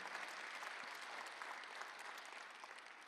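A church congregation applauding continuously during a Korean Sunday worship service, dense clapping filling the room at a steady level from start to finish.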